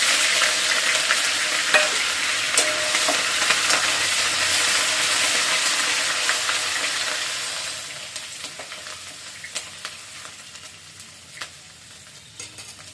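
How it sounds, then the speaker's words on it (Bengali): Panch phoron (five-spice seeds) and ginger fry in oil in a pan, a loud, dense sizzle that holds steady and then slowly thins, with scattered clicks of stirring near the end. "এই যে পাঁচফোড়নটা ভালো করে ফুটাচ্ছি"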